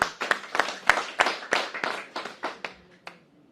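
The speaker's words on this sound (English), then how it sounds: "Big round of applause for" Sparse, scattered clapping from a small audience for a minister at a government announcement, individual claps close by and distinct, thinning out and fading toward the end.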